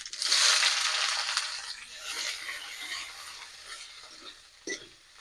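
Chopped onion hits hot mustard oil with bay leaf, dried red chilli and whole cumin in the pan, a loud close hiss and crackle that gradually settles into a softer sizzle, with a brief scrape of stirring near the end.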